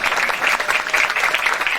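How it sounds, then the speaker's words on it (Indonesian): Audience applause for Islamic boarding schools at a Maulid Nabi religious lecture, a steady crowd of clapping hands filling the room at moderate loudness with no talking. "Tepuk tangan untuk pondok pesantren."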